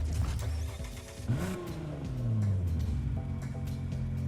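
A stock Nissan GT-R R35 with a 3.8-litre V6 revs in Need for Speed Heat, its engine note rising sharply and then holding a loud, sustained drone, with no talking.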